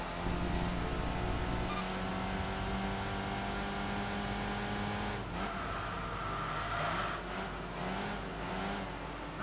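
A tuned, modified sports coupe engine with a blow-off valve drones steadily under load in the Enthusia Professional Racing video game, holding a high sustained pitch with a shift-like dip midway, then climbing again with faint hissy bursts.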